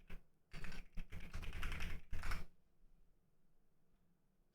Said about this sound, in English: Sorry, you all have to hear my disgusting mechanical keyboard.